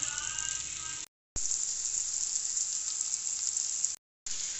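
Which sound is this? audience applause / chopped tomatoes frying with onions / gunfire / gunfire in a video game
chopped tomatoes frying with onions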